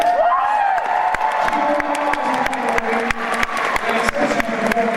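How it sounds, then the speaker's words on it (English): A convention audience at Anthrocon 2016 breaks into applause and cheers, sharp claps and whoops ringing over a sustained crowd roar, with a voice speaking through it. "crowd, please give it up for Kiro."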